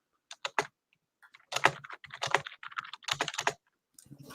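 Typing on a computer keyboard comes in quick bursts of sharp clicks and clacks, close and crisp, separated by brief pauses with no talk.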